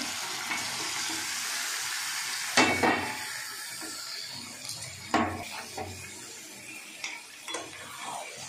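Duck meat goes into a pan of spice paste with fenugreek tempering, hissing and sizzling while a spoon clanks and scrapes against the pan in intermittent knocks, close-up with no talking.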